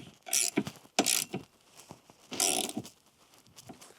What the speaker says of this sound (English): And just tighten the top bolt.